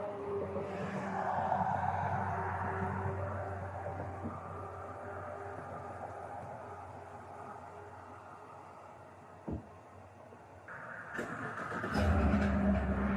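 A truck engine idling and running while the vehicle is moved, a low steady rumble that dips then swells louder near the end with a sharper clunk, heard at moderate distance with no talk.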